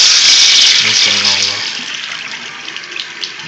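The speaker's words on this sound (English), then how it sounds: "you just turn your water on" Water pours steadily from a tap, a loud broadband rush that gradually softens, with a brief low hum partway through.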